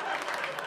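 A comedy club audience gives a short burst of clapping and crowd noise, brief and fairly full.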